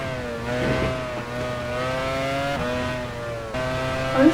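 Race car engine in the F1 Challenge 99 video game, a high-pitched whine rising through several gear changes with short drops between shifts and a brief tire squeal at the end.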